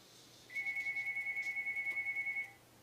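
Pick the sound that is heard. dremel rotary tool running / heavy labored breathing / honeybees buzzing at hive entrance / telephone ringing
telephone ringing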